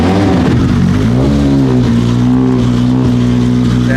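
BMW 135 engine revving hard, a loud, close, sustained roar that rises in pitch and then holds steady, with no talk over it.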